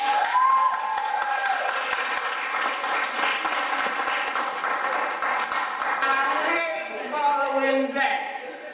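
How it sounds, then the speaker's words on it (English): Audience clapping and cheering for a poet at an art gallery closing reception, a steady wash of applause with voices and whoops rising through it, fading near the end as talk begins. "Let's give a round of applause and show him some love"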